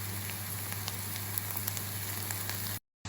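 Chopped onion and garlic sizzle in hot olive oil, a dense, continuous crackling fry with scattered sharper pops, close and steady until it cuts off abruptly near the end.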